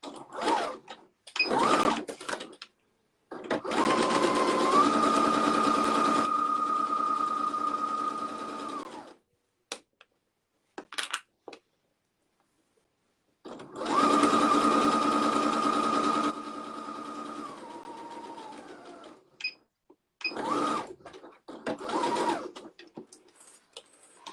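Sewing machine stitching a fabric side seam for a cuddle kit, two long whirring runs separated by pauses filled with clicks and handling noises, close up with no talk.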